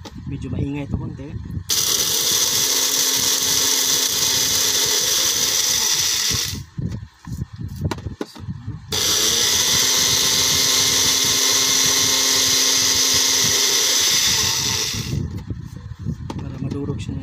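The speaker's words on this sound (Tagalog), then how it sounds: "Ngayon, isalan natin sa high speed blender." A high-speed blender grinding eggshells gives a loud, steady high-pitched whirring grind for about five seconds, stops briefly with a clatter, then starts again for another five seconds.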